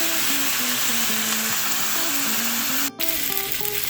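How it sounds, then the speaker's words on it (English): Pork sausage meat and sliced fresh button mushrooms sauté in a pan with a continuous, close sizzle and faint stirring, briefly interrupted by a sharp click. "Now to the scrambled sausage meat, I'm going to add in the mushrooms to saute."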